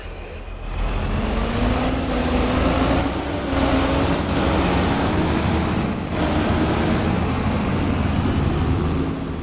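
A tractor engine in Farming Simulator 22 drones steadily with a low hum and broad rushing noise, loud and continuous from start to finish after a brief quieter opening.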